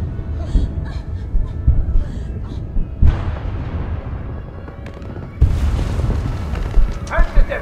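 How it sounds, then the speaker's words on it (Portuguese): Muffled, war-like explosion booms roll through a tense soundscape, with a deep low rumble and scattered impacts, then a sharp louder surge partway through that keeps rumbling to the end. "O áudio tem um pouco parecendo explosões de uma guerra."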